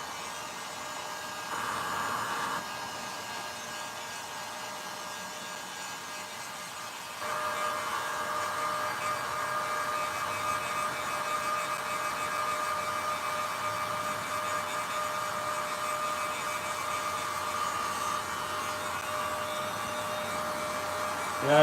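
A dryer on low heat blows steadily to dry a Jason Voorhees Part 7 costume, a constant whooshing hum that steps up louder partway through and runs on alone.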